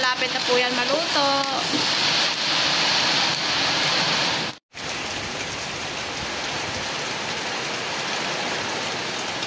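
Heavy typhoon rain and wind from Typhoon Opong in Oriental Mindoro pour in a loud, continuous hiss, with a brief high whining tone early on and one sudden cut midway.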